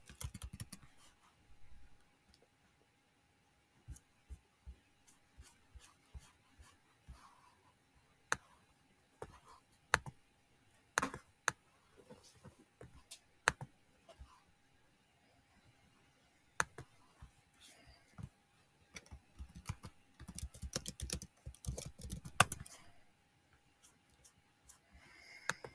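Irregular bursts of keystrokes on a computer keyboard, quiet and close, with pauses between short runs of clicks and no talking.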